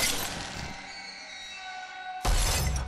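A bird slams into a glass pane near the end of the Portal 2 video game, giving a sharp crack at the start and a second loud, bright crash a couple of seconds later, with ringing resonance in between.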